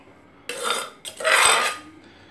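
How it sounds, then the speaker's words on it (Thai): Metal clatter of a spoon scooping a Thai Isan catfish stew into a cooking pot, two scraping bursts, close and clear with no voices. "ตักใส่หม้อนะครับ"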